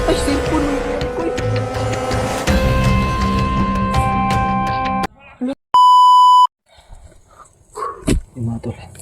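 A cellphone gives off a steady electronic beep tone lasting about a second, standing out loud and clean between stretches of busy background noise and voices.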